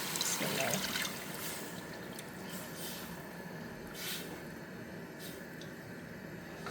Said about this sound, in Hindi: तो इसमें हम अब अपनी लस्सी शामिल करते हैं।